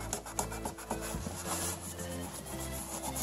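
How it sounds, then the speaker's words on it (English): Sticker residue is rubbed off a vintage radio-controlled Jawa Sandcrawler toy with lighter fluid, giving steady close scrubbing and rasping with a hum in the background. "Put some lighter fluid on this and rub it off."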